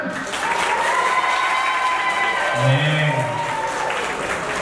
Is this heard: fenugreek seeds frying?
no